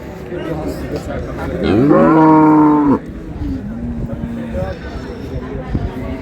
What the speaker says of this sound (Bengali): আর আমরা দেখছিলাম এখানে চমৎকার গাভী বাছুর